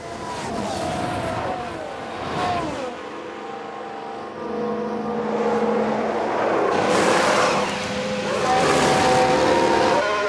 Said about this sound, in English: Did somebody spin out there?